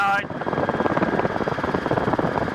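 A Rotorway helicopter in flight gives a steady, loud drone of engine and rotor with a rhythmic chop, heard from inside the cabin as people talk over it.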